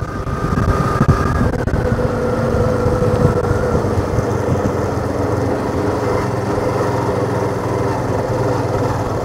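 A vehicle engine hums steadily while coasting downhill on a hill road from Jamunamarathur to Vaniyambadi in the Javadhu Hills, a continuous moderately loud drone with road rumble throughout.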